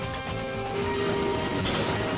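A race car with fading brakes slams into a wall in a loud, dense crash that stays full and sustained across the short clip, with no talking.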